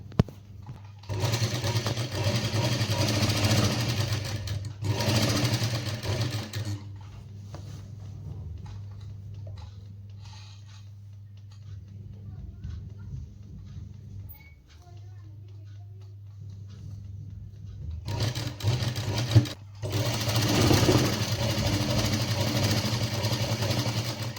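An electric sewing machine runs in two bursts at the start and end while stitching a kurti, with a steady motor hum and a quieter stretch of fabric handling in between.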